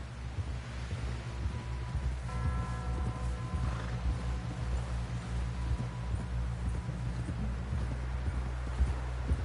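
Horse hooves clip-clop steadily and softly during a ride in the video game Red Dead Redemption 2, under a low background drone with faint distant voices.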